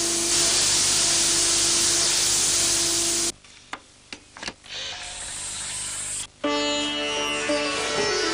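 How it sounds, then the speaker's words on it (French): Sifoxygel cleaning spray from a French TV advert: a loud continuous hissing spray for several seconds, then a cut to quieter clicks and short bursts, ending with background music. "Nettoyage difficile? Sifoxygel en spray."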